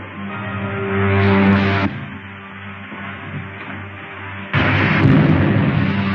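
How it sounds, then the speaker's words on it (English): A blast is fired at an aircraft's tail surface in the 1953 science-fiction film Buck Rogers. A loud, roaring burst rises over a steady engine drone, fades, then flares up again. "Fire a blast into the tail surface as I level out."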